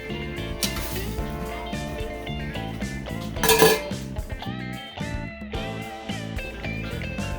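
A metal lid clanks onto a pot of slow-cooked beef ribs with rice, a few sharp close clinks of cookware heard over background music.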